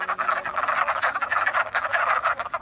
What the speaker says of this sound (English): These wood frogs don't even care that we're here. They're still calling.